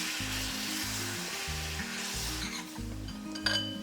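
Roasted wheat flour being stirred with sugar syrup in a hot pan for a sweet flour sheera, with continuous sizzling and scraping strokes, close, plus a brief clatter near the end.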